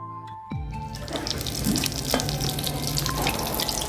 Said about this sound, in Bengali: এই যে এবার ফাইনালি বড় বড় বেগুনিগুলো ভাজা হচ্ছে